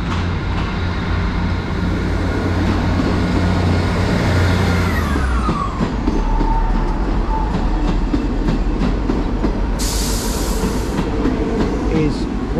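A Class 158 diesel multiple unit pulls out of Exeter St Davids station, its engine rumbling loud and close with rising tones and a steady clatter of wheels as it moves off, while a brief hiss sounds near the end.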